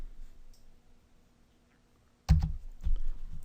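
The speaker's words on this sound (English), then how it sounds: "so I'll just type in" A short burst of clicking keystrokes on a computer keyboard breaks a near-silent pause, a quick cluster of close taps followed by a few more.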